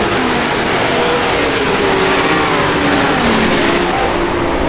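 Vintage race car engine in the rFactor 2 sim at Monza's Lesmos, droning loud and steady as it shifts up into fifth gear and keeps pulling, no talk over it.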